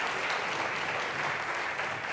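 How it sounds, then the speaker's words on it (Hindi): Studio audience applause welcoming a guest on a Hindi political talk show, a steady, dense wash of clapping that fills the whole stretch without a break. "पहले जोरदार तालियों से स्वागत कीजिए हमारी आज की मेहमान"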